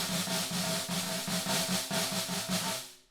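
Snare drum press rolls played too hard: a dense, choppy buzz with a pulsing roughness from strokes that cut each other off, moderately quiet and close, with no talking.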